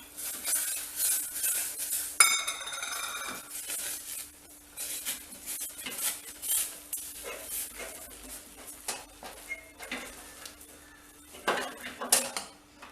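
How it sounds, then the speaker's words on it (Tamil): Rice flour dough stirred in a pan with a metal utensil, repeated clanks and scraping strokes at an uneven pace, close and clear, with a faint sizzle beneath. "இப்போ மாவை கொஞ்சம் கொஞ்சமாக போட்டு கிண்ட போகிறோம், கட்டிப்படாமல்"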